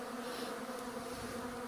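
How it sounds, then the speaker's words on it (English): Released honeybees buzz continuously at close range, a steady insect drone holding evenly from start to finish with no voices. "See that bee? It's moving a little bit fast."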